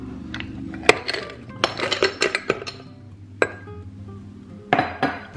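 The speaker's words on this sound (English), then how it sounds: "And I'm going to throw my ice in there." Ice cubes tumble into a blender jug, giving a scatter of sharp clinks and clatters, some in quick clusters and others alone, fairly close with no talking.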